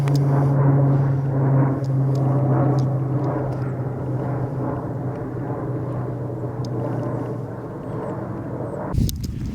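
An airplane passes overhead with a steady droning engine hum and a strong low tone, loud at first and slowly fading, with a brief thump near the end.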